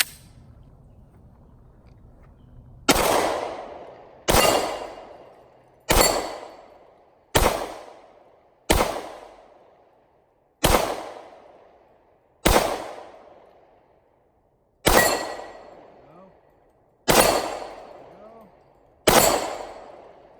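A Gen 2 Glock 20 fires 10mm steel case Blazer ammunition in ten sharp, loud single shots spaced a second or two apart, each with a short ringing decay.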